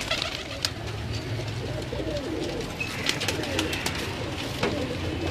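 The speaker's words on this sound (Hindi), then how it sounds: "ये भी बड़ा कबूतर है सलारा टैडी" Salara Teddy pigeons coo in low, rolling calls amid soft flutters and scattered clicks from a loft in Lahore, fairly close and steady throughout.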